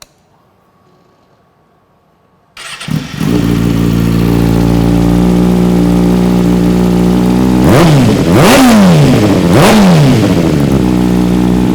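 A motorcycle fitted with a Two Brothers Racing full system exhaust starts after a quiet moment, settles into a loud, close idle, then revs sharply twice with rising and falling throttle blips before dropping back to idle.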